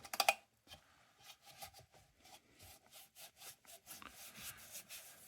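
A cloth buffs the grimy, oxidized paint on a STAR railroad inspector lantern: a quiet series of soft, rhythmic rubbing strokes, close up, after a few sharper scuffs at the start.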